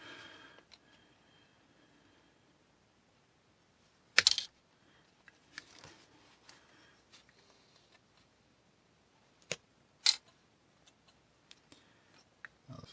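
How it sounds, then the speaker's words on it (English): Heavy-duty sprue cutters snip through thick plastic model kit window glass, a few sharp isolated clicks and snaps spaced seconds apart over near silence, close, with faint handling noises between cuts. "So I'm going to be using the more heavy-duty sprue cutters here."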